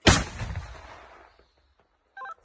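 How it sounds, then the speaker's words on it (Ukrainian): A single loud, booming mortar shot bursts out and rolls away into a fading rumble, followed by a short burst of distant voice. "Постріл!"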